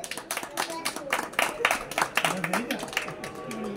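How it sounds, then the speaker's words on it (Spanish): Scattered clapping from a small crowd at a bonsai exhibition and raffle during a town festival, uneven and lively, with voices talking over it. "¡Un aplauso!"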